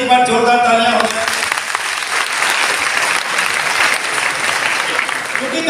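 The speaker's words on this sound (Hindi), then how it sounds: "तो इन नए लोगों के लिए भी एक बार जोरदार तालियां हो जाए" A seminar audience at a Hindi motivational talk bursts into loud, dense applause for first-time attendees, rising after a brief moment of voice and holding steady, close and full, to the end.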